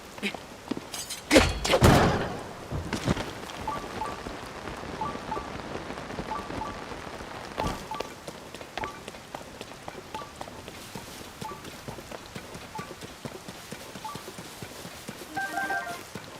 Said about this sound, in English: And now that it's raining, it's going to be kind of hard to get back up the mountain.